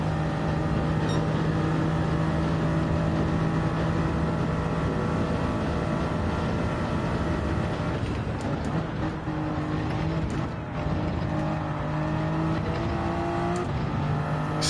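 A Gr3 race car in a racing video game on the Daytona road course holds a steady, loud engine drone with sustained high revs and slight pitch shifts throughout, with no talking.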